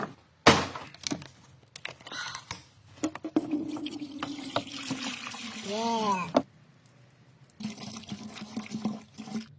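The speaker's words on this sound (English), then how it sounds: "Best product, distilled water." Distilled water is poured from a bottle during repair work on a non-starting Mercedes V12 S-Class. A gurgling pour rises in pitch as it fills, with a brief spoken word and clattering handling noises around it.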